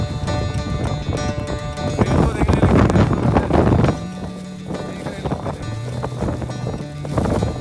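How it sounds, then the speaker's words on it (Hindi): Strong wind roars and buffets loudly against the microphone on the Triund mountain trek trail, a dense continuous rush that eases slightly partway through. "बहुत तेज हवा चल रही है"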